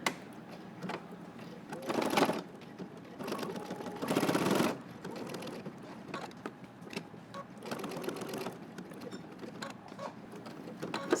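A sewing machine stitches a jacket at a small 2.0 stitch length in bursts of running, with pauses between short sewing runs and a few louder stretches, close and clear with no talking.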